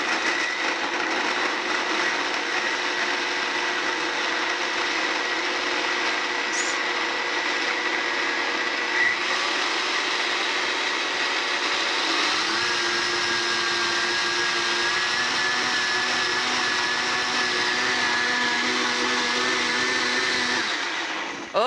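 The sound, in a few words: blender blending apple butternut squash soup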